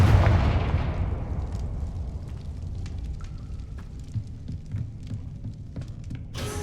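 An explosive Confringo spell goes off in the Hogwarts Legacy video game: a loud burst at the start fades into a long, low rumbling tail with scattered crackles.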